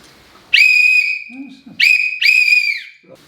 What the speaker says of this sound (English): there were people knew when they heard the whistle, yeah, where there's blasting going to take place